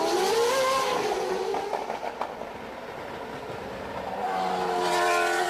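A1 Grand Prix open-wheel race cars roaring along the track at the 2006 Monterrey round in Mexico, a loud continuous engine drone that dips briefly and swells again near the end.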